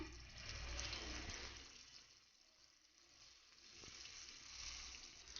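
Unniyappam batter frying in hot oil over a medium flame, giving a soft, steady sizzling hiss that swells and fades slightly throughout.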